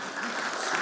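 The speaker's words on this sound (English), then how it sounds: "Yeah, you can clap." A brief burst of audience applause at a conference talk on women as creative leaders, a dense, even smear of clapping lasting under a second.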